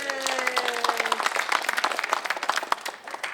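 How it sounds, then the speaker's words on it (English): Senior center audience applauding after a humorous singing performance, dense clapping throughout with a brief sustained tone early on, fairly close and lively. "How about a round of applause for you?"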